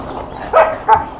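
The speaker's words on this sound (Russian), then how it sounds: "А вы тут гавкаете." Two short barks from Samoyed dogs sound close and loud in quick succession over a faint background.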